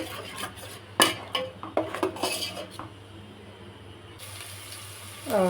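A spoon stirs onion paste around a cooking pan, giving a cluster of metallic scrapes and clinks near the start followed by quieter mixing.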